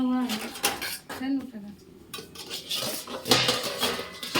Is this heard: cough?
no